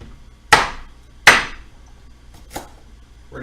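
Celery stalks being broken and cut on a board: three sharp, separate snaps or chops, close and loud, with quiet between them.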